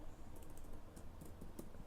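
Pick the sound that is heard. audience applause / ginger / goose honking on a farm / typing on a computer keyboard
typing on a computer keyboard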